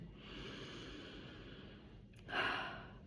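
A single deep inhalation taken during a guided breathing moment, a brief close breath rising near the end over a steady low background hum, with no talking.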